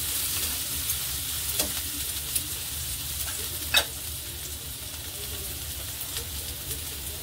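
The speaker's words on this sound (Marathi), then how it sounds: "ते चांगलं फ्राय करून घ्यायचं आहे, कांद्याचा आणि लसणाचा वास जाईपर्यंत" Chopped onion and garlic sizzle steadily in a pan for veg momos, a soft even hiss with a couple of faint clinks, and no talking.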